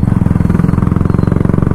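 A motorcycle engine thumps with a fast, even, pulsing rhythm while the bike is ridden through city streets on a solo trip, loud and close with no talk over it.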